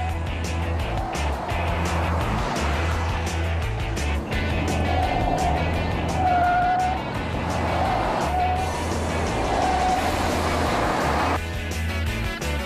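An armored car driving fast through curves, its engine a loud, continuous drone with rising and falling revs and road roar as it works through the bends.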